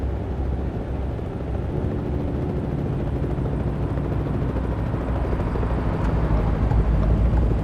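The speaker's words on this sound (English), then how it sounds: "I see a helicopter up ahead" A helicopter hovers over a police scene in American Truck Simulator, its rotor beating in a loud, continuous, rumbling drone that holds steady throughout with no talk.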